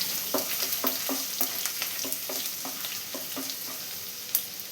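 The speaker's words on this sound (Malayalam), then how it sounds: "ഇനി ഇതെല്ലാം കൂടി ചെറുതായി ഒന്ന് ചൂടാക്കി എടുക്കണം" Chopped garlic and ginger fry in a pan for chicken mappas, a close steady sizzle broken by regular stirring scrapes of a spoon.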